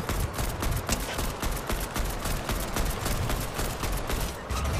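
AK-47 gunfire in Fortnite, a rapid string of loud, sharp shots fired in quick bursts, close and continuous with no talking over it.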